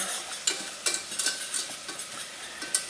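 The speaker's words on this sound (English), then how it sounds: "We're going to go ahead and add our 1/4 cup of flour to it. We're going to kind of stir this in." A spoon stirs flour into melted butter in a pan while making creamed spinach, producing a light sizzle with repeated scraping strokes at an uneven pace, close by and with no talking.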